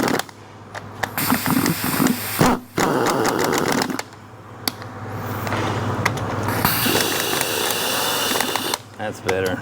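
Working on a Kia engine short block, a big half-inch ratchet clicks in bursts as it turns a socket, mixed with clanks of tools and someone talking over it.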